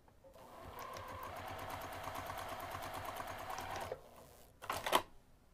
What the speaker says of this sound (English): We're going to sew the short ends using a 1/2 inch seam allowance.